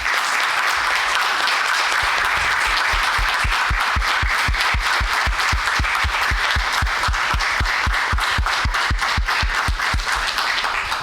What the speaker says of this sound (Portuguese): eu queria pedir aos meus colegas uma sessão de aplausos, se possível de pé, ao Fabiano